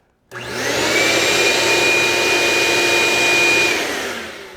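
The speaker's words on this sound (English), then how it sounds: "So here we go, first with the shop vac." A shop vacuum powered by a Mango Power E power station switches on and runs loud and steady for several seconds, with a high whining tone over a broad rushing roar.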